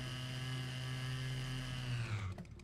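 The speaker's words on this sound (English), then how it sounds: "Oh, the chainsaw will work on this." Chainsaw in the video game Serious Sam TSE, a steady buzzing motor whine with a sustained harmonic tone that drops in pitch and cuts off near the end.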